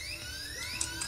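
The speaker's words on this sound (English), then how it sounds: "God, that alarm," Electronic alarm ringing in a bank during a heist in a video game, steady tonal wailing sweeps with brief bright beeps, continuous and moderately loud, no talk.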